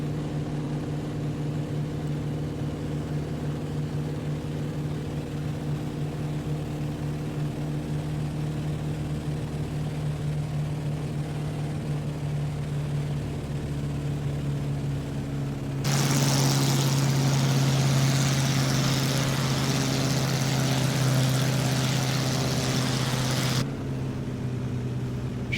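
Steady drone of an ME-108 Typhoon aircraft engine heard from the cockpit during a low flyby, a constant tonal hum that swells into a louder, brighter roar for several seconds before settling back.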